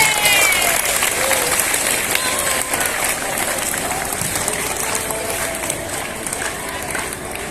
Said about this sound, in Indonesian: tepuk tangan untuk peserta upacara yang telah menggelar kegiatan dengan tertib